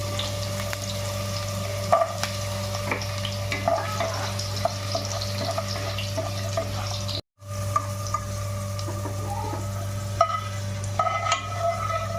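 Mixed vegetables and carrots fry in a pan for a restaurant-style mix veg dish, with a steady close sizzle and occasional stirring scrapes and clicks throughout. No one speaks.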